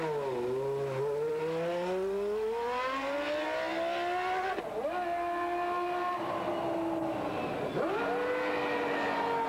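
Michael Schumacher testing a 1996 Ferrari Formula One car with a V10 or V12 engine at the Paul Ricard circuit, the engine note rising and falling through gear changes with sharp shifts, steady and prominent with no talk.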